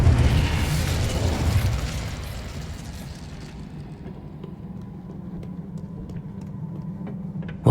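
Magical spell blasts from the fire and blast spells Confringo and Incendio in the video game Hogwarts Legacy: a loud, dense burst of booming, crackling energy fading into a lingering low rumble.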